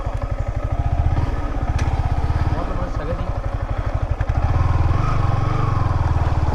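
A motorcycle engine runs steadily nearby on a hill road in Vattavada, Kerala, its rapid low putter continuing throughout with a slight rise in pitch partway through, while people talk over it.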